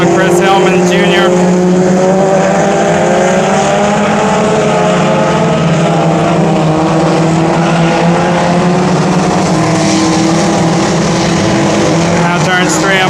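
Hornet class race cars lap the oval at Brownstown Speedway, giving a loud continuous engine roar with wavering pitch as they come through the turns. An announcer calls the race over the noise from start to finish.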